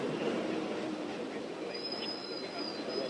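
A train passing during a rail-blocking protest in Chennai, held in support of farmers, rumbles steadily with a high wheel squeal drifting in partway through, under a busy crowd.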